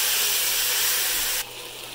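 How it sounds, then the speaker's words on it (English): Chicken sizzling in a pan produces a steady bright hiss that drops off suddenly to a quieter sizzle partway through. "Now I am frying up the chicken"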